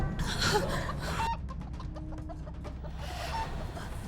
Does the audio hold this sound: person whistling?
no